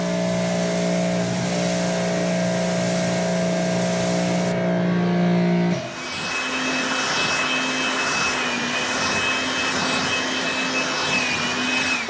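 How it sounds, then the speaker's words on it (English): A pressure washer rinses a car during paint detailing: a loud, steady motor whine with strong harmonics runs first, then gives way to a continuous broadband hissing spray that lasts to the end. "then blast it with a pressure wash or pressure rinse"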